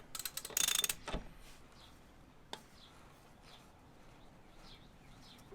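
A ratchet tightens a bolt on a 2021 Suzuki V-Strom lift kit, with a burst of rapid clicking at the start, then quieter intermittent clicks, close by in a quiet outdoor setting.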